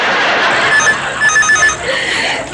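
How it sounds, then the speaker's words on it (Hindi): A telephone rings in short repeated electronic trills over a noisy room background, fairly close. "किसका फोन है?"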